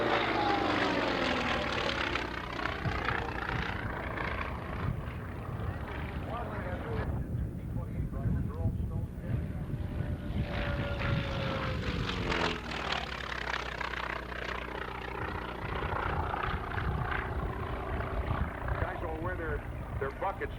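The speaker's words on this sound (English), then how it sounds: "here comes the Wildcat back around for another pass" An FM2 Wildcat propeller airplane makes a pass at an air show, its engine droning loud and steady, rising and falling in pitch as it sweeps by, with a commentator talking over it.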